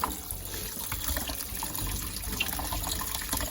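Tap water runs steadily into a sink while fresh small Japanese garlic bulbs are rinsed, a continuous close splashing and gurgling with no voices.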